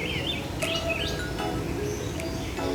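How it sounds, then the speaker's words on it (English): Many birds chirp and sing at once inside the walk-through aviary at Hong Kong Park, with bright overlapping calls and sharp tweets over a steady, busy background of birdsong. "So you can hear all the birds singing on this place."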